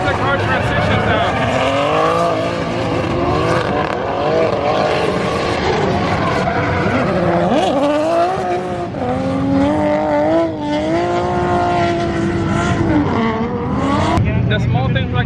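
A 1000HP BMW drift car at a Formula Drift qualifier in Orlando keeps up a loud, continuous engine roar whose pitch rises and falls through its transitions, with a voice talking over it.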